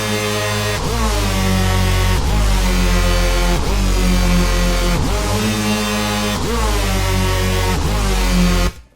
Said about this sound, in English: today I'm going to show you how to make a wonderful, dirty, filthy Hoover sound.